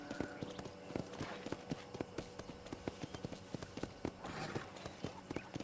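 Steady clip-clop of horse hooves at a walking pace in Red Dead Redemption, a rhythmic series of close taps on the ground with outdoor ambience and a brief snort.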